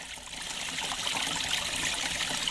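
A large water leak gushes out of a stone wall on Manuka Street in Miramar, a steady, close, hissing rush of flowing water like a babbling brook that runs unbroken with no voices.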